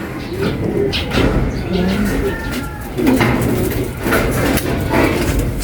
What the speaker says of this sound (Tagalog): Chill na po ang ating mga bird.